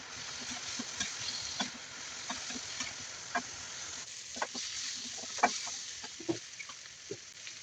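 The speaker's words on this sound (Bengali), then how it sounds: "এটিকে আবার ভালোভাবে ভেজে নেব" Prawns fry in a pan with a steady background sizzle, broken by frequent sharp scrapes and clicks from stirring, close and fairly busy throughout.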